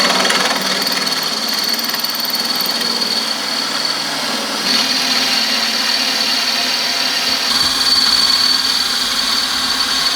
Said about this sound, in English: we're going to drill the majority of the hole out